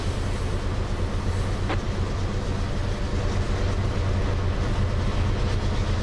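CSX freight train in a Trainz railroad simulation, a steady low rumble of engine and rolling wagons continuing without pause, loud and even throughout with no talking.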